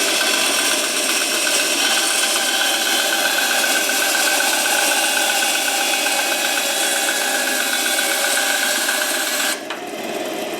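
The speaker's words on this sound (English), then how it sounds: "We'll just try a random cut here and slice a piece off." A Vevor 10-inch band saw runs steadily while slicing through a piece, a loud, even, high-pitched whine with cutting noise that holds for about nine seconds before cutting off abruptly.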